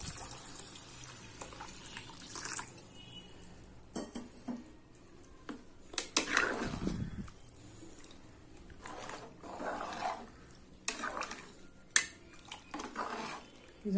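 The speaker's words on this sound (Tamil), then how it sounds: "இப்போ தண்ணி ஊற்றிக்கலாம்." Water is poured into a cooking pot for vegetable masala rice, splashing and running in soft bursts mixed with clinks of metal vessels and utensils in a home kitchen.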